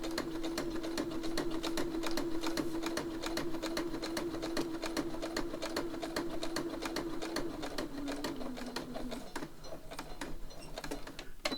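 A sewing machine stitches steadily through thick layers of a handmade notebook, its needle ticking in a rapid even rhythm close up, with a brief change in pace near the end.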